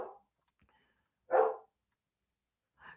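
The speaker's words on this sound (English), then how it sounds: "Sorry about my dogs." Pet dogs bark at home as a car pulls in, giving a short bark, then a single clear louder bark and another starting after a pause, with silence between.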